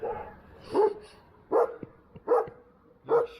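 A Kangal dog barks four times in an evenly spaced series, moderately close, with quieter breathy noises between barks and no talking.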